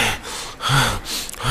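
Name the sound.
storyteller imitating a doctor panting for breath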